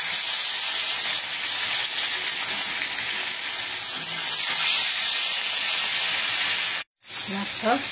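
Fish fries in hot mustard oil, a loud, close, continuous hiss and sizzle that cuts off briefly near the end before resuming, with a voice faintly present.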